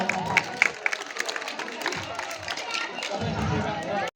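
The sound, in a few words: applause welcoming a guest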